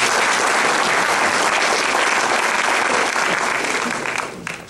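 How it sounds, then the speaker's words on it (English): An audience at a county youth awards dinner applauds in a sustained, dense wash of clapping that stays loud and even for several seconds before starting to fade at the end. "let's give them a round of applause"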